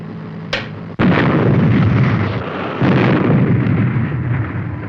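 A weapon fires from Supercar with a sharp click, then a heavy booming explosion that rolls on as a loud sustained roar with a second surge.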